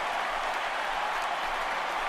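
A baseball video game's home crowd roars after a home run, a dense, steady wash of cheering and applause at an even level with no break.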